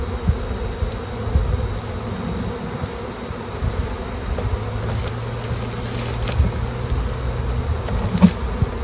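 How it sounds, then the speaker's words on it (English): A late-season swarm of honey bees hums around hive boxes, a dense, continuous buzzing drone with individual bees flying close past now and then, no voices. "There's a lot of bees in here."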